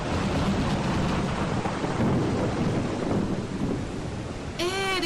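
Heavy rain pours steadily in a dense, roaring wash with deep rumbling thunder beneath it, loud and continuous throughout, before a voice briefly cuts in at the very end.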